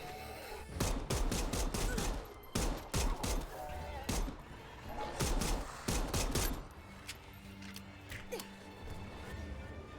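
Rapid bursts of gunfire from the Dead Island 2 video game, several loud volleys in quick succession with pauses between, fading into quieter game ambience toward the end.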